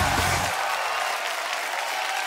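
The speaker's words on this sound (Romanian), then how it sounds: "Aplauze pentru Andrei Cojocaru" Audience applause at a Romanian stand-up comedy show, a dense steady wash of clapping from a live crowd that carries on evenly for the whole stretch, with a brief low murmur at the very start.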